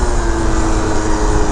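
Piaggio Typhoon scooter engine with an upgraded carburetor, running steadily: a constant buzzing drone with a firm tonal whine, loud and close, holding an even pitch without revving for its short length.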